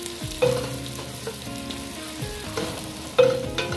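Buldak cheese ramen stirred in a tall cooking pot, a steady sizzling scrape with a few louder clanks of the utensil against the pot near the start and end.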